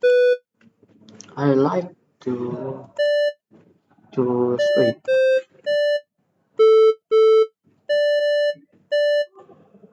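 A robot's remote control emits a series of short, clean electronic beeps at varying pitches, some in quick pairs, spaced between bursts of close speech and each stopping cleanly.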